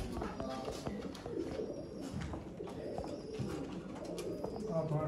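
Pigeons at a loft coo softly at close range, low rolling calls repeating over a busy background of rustling and faint murmuring voices.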